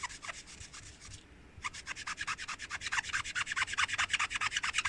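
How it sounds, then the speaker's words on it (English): Squeaky, rhythmic rubbing as a surface is rubbed back during a DIY Christmas gift craft, a brief pause and then faster, steadier back-and-forth strokes that grow louder, close up with no talking. "I'm going to just rub some of this back, like I just did"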